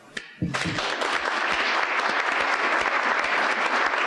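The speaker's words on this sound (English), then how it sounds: "a special round of applause for Martha." A panel-event audience breaks into applause after a brief quiet moment, the clapping rising abruptly and holding as a dense, steady roar of many hands close by.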